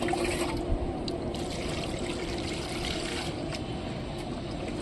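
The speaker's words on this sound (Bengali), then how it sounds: "এবারে আমরা মাটিটার মধ্যে হালকা হালকা করে জল দেবো।" Water is gently poured by hand onto the soil of a potted lotus, making a continuous close trickle and splash that runs steadily without breaks, with no talking.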